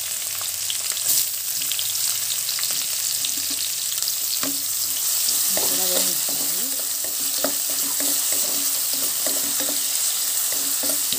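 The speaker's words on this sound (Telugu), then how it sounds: "ఇప్పుడు ఇందులో సన్నగా కట్ చేసుకున్న ఉల్లిపాయ ముక్కలు వేస్తున్నాము" Finely chopped onions sizzle in hot tempering oil in a pan, a steady crackling hiss running throughout with occasional stirring scrapes, close and fairly loud with no talk.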